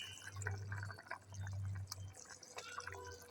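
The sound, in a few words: pabda fish added into simmering curry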